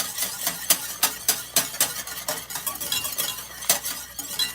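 Salted caramel filling is whisked briskly in a pan, the whisk scraping and clinking against the metal in quick, uneven strokes, close and fairly loud, with no talk.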